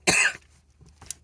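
A single loud, harsh cough bursts out close up, followed by quieter throat noises and a shorter second cough, during a coughing fit.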